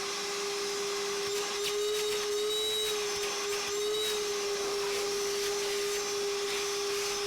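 A Ryobi 3-gallon shop vacuum runs at full power throughout with a loud, steady roar and a sustained whining tone on top, close and unbroken, with no voices.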